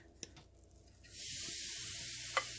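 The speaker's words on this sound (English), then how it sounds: "take all of that grated carrot and mix it into this and put it into this pan" Grated carrot mixed with oil and put into a pan gives a steady, faint hissing sizzle that starts about a second in and continues, with a few small clicks and stirring taps before and during it.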